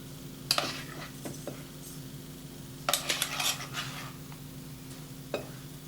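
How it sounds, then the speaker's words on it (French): Spoon scraping and clinking against ramekins while stuffing is filled into them in a kitchen, heard as scattered light metal-on-ceramic taps and scrapes over a low steady background hum. "Remplissez les ramequins de farce."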